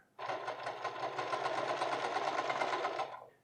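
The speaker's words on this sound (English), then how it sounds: "I'm going to sew from the top down to the bottom here." A sewing machine stitches a pants lining from top to bottom in one steady, continuous run of rapid mechanical whirring, close and loud, starting and stopping abruptly.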